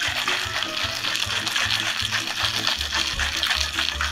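Cocktail shaker filled with ice shaken for an orange martini, rapid rhythmic rattling and sloshing in quick repeated strokes, close and moderately loud, with no talk.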